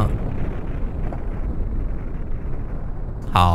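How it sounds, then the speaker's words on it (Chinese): An atomic bomb explodes in The Henry Stickmin Collection video game, a dense, continuous low rumbling blast that stays loud throughout before a brief tonal game sound at the end. "好吧，一个原子弹"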